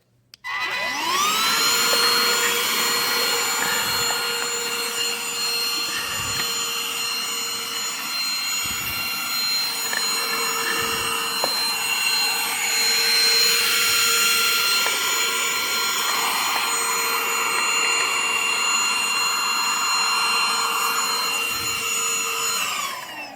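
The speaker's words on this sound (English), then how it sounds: "I just got my vacuum cleaner that I bought" A BISSELL AeroSlim 2986D cordless handheld vacuum cleaner switches on and runs steadily, a loud, close, high-pitched motor whine with a few brief dips in tone, then stops abruptly at the end.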